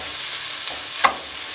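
Biryani masala frying in a pan, an even low sizzle with one sharp metallic tap of a spoon near the end.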